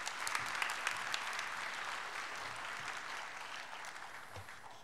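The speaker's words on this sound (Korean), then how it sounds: "박수로 한번 맞으세요" A church congregation claps to welcome a speaker at a Sunday worship service, steady dense applause that holds at moderate level for about five seconds without talk.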